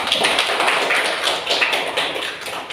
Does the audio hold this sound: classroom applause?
yes